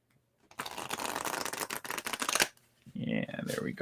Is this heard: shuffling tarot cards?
yes